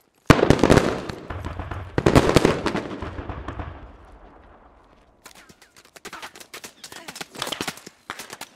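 Gunfire in the game Squad: loud close bursts of rapid automatic fire, then a lull with a fading tail, followed by further scattered, more distant shots and bursts.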